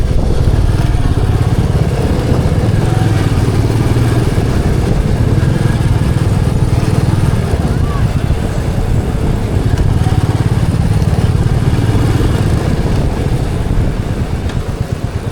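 Royal Enfield Meteor 350 cruiser motorcycle ridden at night through city streets, its steady engine drone and road rumble loud and continuous throughout, close to the rider with no talk.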